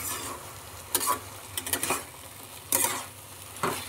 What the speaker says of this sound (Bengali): এবার শুধু একটু নাড়াচাড়া করবো, ভালো করে নাড়াচাড়া করে নামিয়ে ফেলবো আমি